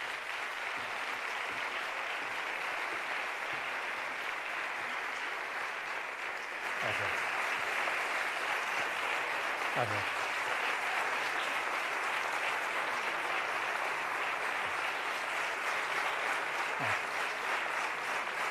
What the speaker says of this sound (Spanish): un aplauso para Arturo Pérez Reverte